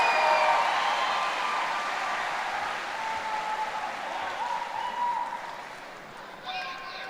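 Audience applause fills a high school graduation commencement ceremony, a broad steady wash of clapping from a large crowd that holds for several seconds before easing and tapering near the end.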